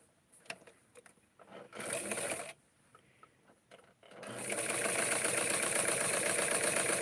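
A sewing machine single-stitches a Barbie doll dress made from vintage flower power fabric. After a few quiet handling knocks, it starts a steady, close whirring run that lasts to the end.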